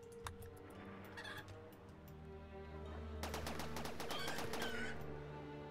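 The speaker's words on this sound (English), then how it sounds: "I've been betrayed by the chickens." Chickens cluck in the colony game Rimworld, their calls mixed with a steady low drone and, in the second half, a dense run of sharp, rapid gunfire-like bursts.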